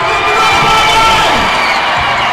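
Basketball arena crowd cheering and shouting loudly during a timeout merchandise giveaway, a dense, sustained roar of many voices with whoops, close and continuous throughout.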